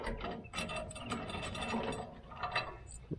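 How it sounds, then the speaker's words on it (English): A 9/16 socket ratchet clicks rapidly and steadily at close range, backing out cap screws on a Woodmizer sawmill. "Pull that out, those cap screws out of there."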